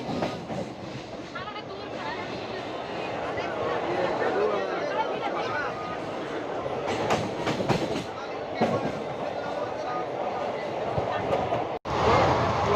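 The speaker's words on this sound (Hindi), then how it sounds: "इस तरफ देखिए ट्रेन हमारी खुल भी चुकी है" An 11.40 local passenger train near Kharagpur pulls away and runs on, a steady rolling rumble with clickety-clack wheel beats and brief rattles, heard from on board with people talking over it.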